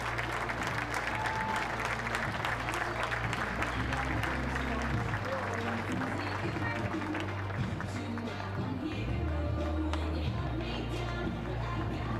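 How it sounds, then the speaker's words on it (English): A crowd applauding at an NCAA college softball game between Virginia Tech and Virginia, steady clapping spread across the stands for the whole stretch, with an amplified voice and low hum beneath. "Please join us in one more round of applause for everyone impacted by cancer."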